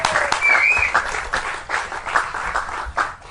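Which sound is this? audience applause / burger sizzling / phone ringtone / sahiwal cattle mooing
audience applause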